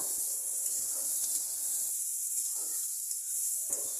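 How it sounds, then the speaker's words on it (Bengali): Chopped onions and garlic frying in hot oil in a Bengali home kitchen make a continuous close hiss of moderate level, with a brief gap in the lower crackle midway and no voices. "পেঁয়াজ কুচিগুলি আমি বেশি ভাজবো না হালকা বাদামি করে ভেজে নেব"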